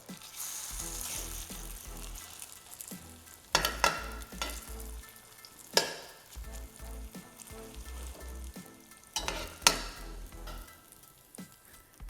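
Cauliflower fritter dough fries in hot oil with a dense crackling sizzle, broken by several sharp bursts and splatters as the dough is pressed and moved, close and fairly quiet overall.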